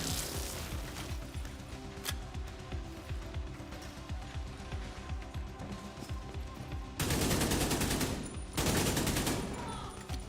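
Sustained rapid automatic gunfire from a high-recoil weapon in The Division 2, a fast, even train of loud shots with a short pause before a final dense burst.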